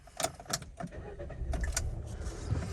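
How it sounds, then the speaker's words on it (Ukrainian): A 2017 Fiat 500X engine cranks and turns over amid a few sharp clicks and rattles, then settles into a low, steady rumble close by. "Заведемо автомобіль."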